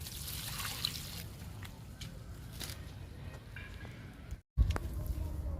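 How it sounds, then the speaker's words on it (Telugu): Liquid fertilizer trickling onto flowering hibiscus plants in summer, a soft continuous dribble close by, with a brief dropout near the end before a louder handling bump. "మందారాలకు ఇచ్చేద్దాము లిక్విడ్ని"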